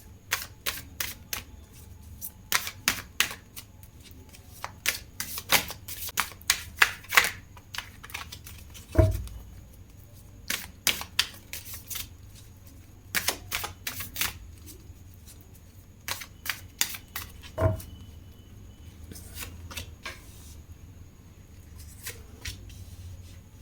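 Tarot cards are shuffled and drawn in a quiet room, giving many short crisp flicks and snaps in irregular bursts, close and fairly soft, with a couple of duller thumps on the table and no talking.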